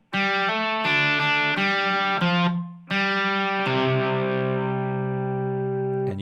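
A distorted electric guitar plays the intro riff of the CSNY song Ohio, several sharply struck chords in a steady rhythm, the final one left ringing out and slowly fading.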